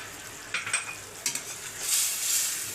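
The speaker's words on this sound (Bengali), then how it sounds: "দিয়ে এবার পনিরগুলো মিশিয়ে দিলাম।" Paneer being stirred with kasundi and lemon juice in a pan: a few quick scraping strokes over a soft, rising sizzle, close and fairly quiet.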